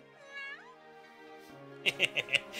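A cat character in the PSP video game Riviera gives a short series of about four bright, clipped meows toward the end, following a soft synthetic game tone.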